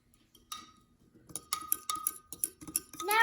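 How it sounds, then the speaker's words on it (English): A spoon stirring milk, sugar and vanilla in a container for homemade ice cream in a bag, with sparse light clinks and scrapes that grow busier and more rapid toward the end. "Then you stir it."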